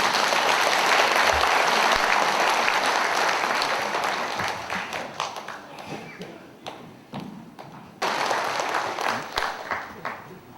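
Audience applause in a hotel banquet hall before a lecture, steady dense clapping from a large crowd that thins out and then swells again, with scattered individual claps near the end.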